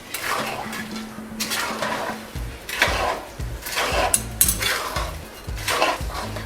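Adadiya pak mixture with almonds and other dry fruit being mixed in a metal pan, repeated clanks and scrapes of a spoon against the pan in an uneven rhythm, close and fairly loud, with no talk.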